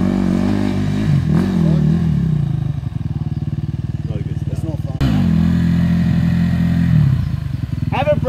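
A DRZ 400 dirt bike climbs a muddy creek hill after rain, its engine revving hard and labouring close by in bursts, with people talking and shouting over it.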